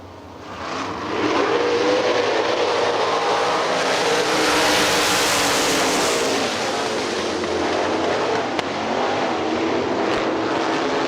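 Sprint cars roar around the Hartford Speedway Park dirt oval in a Great Lakes Outlaw Sprint Series heat, a loud, dense engine din that holds steady throughout with no speech.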